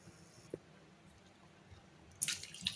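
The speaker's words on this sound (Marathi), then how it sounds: "आता याच्यामध्ये आपल्याला आवश्यकतेनुसार पाणी घालायचं" Water poured into a pan of sprouted moong beans cooking over a low gas flame, a short splashing rush arriving near the end after a quiet stretch with one small tap.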